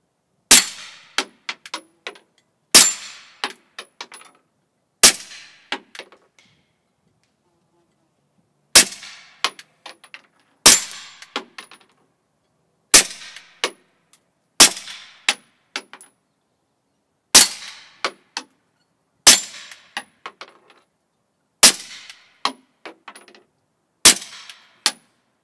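A new suppressed Canik TP9 SF pistol with a threaded extended barrel fires rounds in a series of sharp, clanging reports, single and in quick pairs, with clear pauses between them.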